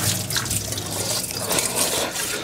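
Water pours and splashes steadily through a colander during home cooking, a continuous close rush of draining liquid.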